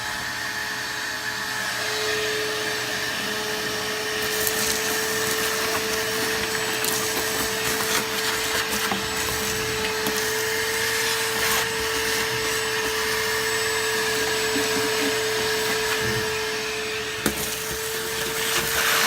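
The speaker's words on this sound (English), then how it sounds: "Everybody loves a good vacuuming scene." A vacuum cleaner sucking sand out of a Jeep TJ interior with the seats removed, a loud steady whine with a constant hum and rattling grit, close up for the whole stretch with no talk.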